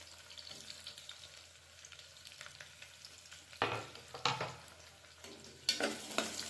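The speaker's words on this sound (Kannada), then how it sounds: "ಗೋಲ್ಡನ್ ಬ್ರೌನ್ ಆಗೋ ತನಕ ಫ್ರೈ ಮಾಡ್ಕೋಬೇಕು" Onions sliced lengthwise fry in oil for donne biryani, a quiet low sizzle at first that swells into louder bursts of crackling as they are stirred.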